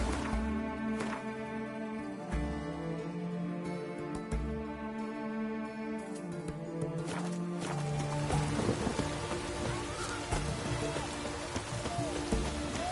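Rain falling in The Witcher video game makes a steady patter that grows denser and louder in the second half, layered over game music and horse hoof clip-clops.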